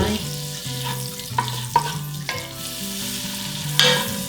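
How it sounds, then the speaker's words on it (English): Butter melts and sizzles in a pan on a wood cook stove, a soft steady fizz running throughout, with a low repeating hum and a few sharp clinks and taps breaking in near the start and end. "I'm just going to let the butter melt"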